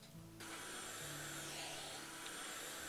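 Steady vacuum-cleaner drone from cleaning windows in the House Flipper video game, starting abruptly and holding loud and continuous with a low hum beneath a broad hiss.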